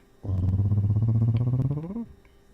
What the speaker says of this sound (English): There's a cat in here now too.